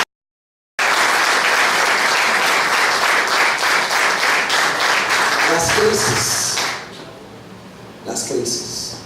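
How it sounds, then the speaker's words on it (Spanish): A church congregation applauds loudly in a sustained wave of clapping that fades after several seconds, followed by a few scattered sounds. "Démosle un aplauso al Señor."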